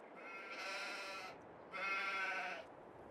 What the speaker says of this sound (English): So I did build the sheep shed here, or sheep barn. So we've got 15 adult sheep in here